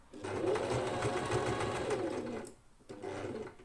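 A sewing machine stitches the side seam of a bag lining, running steadily and loud for about two seconds before a brief pause and a short second burst.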